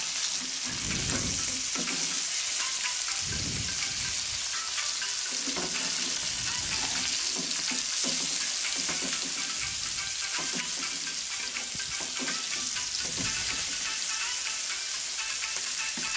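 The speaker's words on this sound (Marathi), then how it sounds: "थोडीशी ही मच्छी आपण वरच्या बाजूनी थोडीशी दाबून घ्यायची, म्हणजे ती खालून चांगल्यापैकी फ्राय होते" Saundale fish frying in a pan, a loud steady sizzle of hot oil running throughout, with occasional soft thumps as the pieces are pressed down.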